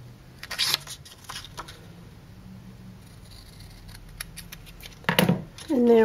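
Scissors snip through a paper strip for a small craft banner in a few short, close cuts, separated by quiet pauses, with faint handling rustle.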